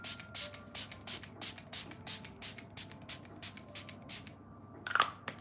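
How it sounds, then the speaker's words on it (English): Face setting spray misted onto a face in quick repeated bursts, about a dozen short hissing puffs at an even rhythm, close and fairly quiet, ending with a slightly louder spritz. "I'm gonna spray my face and then I'm gonna powder again"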